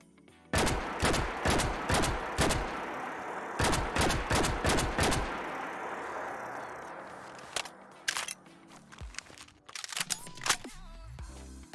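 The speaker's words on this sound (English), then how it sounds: "we'll be sure to make a little section where you can listen to just the audio of this weapon firing" Energy rail weapon from a Fallout 4 mod firing in a video game, a rapid burst of loud sharp discharges followed by a pause, another burst, then scattered fainter shots over a fading rumble, no talk.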